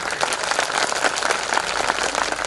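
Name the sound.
crowd clapping loudly at a gathering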